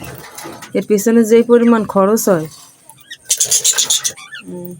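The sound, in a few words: pet birds calling, cooing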